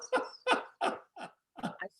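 A dog whimpers and yelps in a string of about six short, close, high whines with brief gaps between them and no talking.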